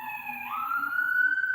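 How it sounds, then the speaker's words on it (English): Emergency vehicle siren passing by, a wailing tone that rises and holds, fairly distant and moderately loud, heard alone. "I got a siren going by"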